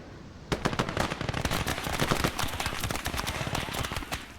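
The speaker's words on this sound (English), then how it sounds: "That's an anti-tank rifle, that's nice." A Boys anti-tank rifle firing amid a dense video game battle, sharp gunshots cracking in rapid, overlapping succession throughout, loud and continuous.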